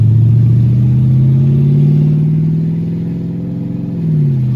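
LS-swapped Chevrolet Malibu with 3.73 gears pulling through first gear, a loud, close engine drone rising in pitch, then briefly dipping and picking up again near the end.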